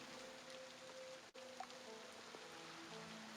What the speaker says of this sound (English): Oh, by the way, it's raining.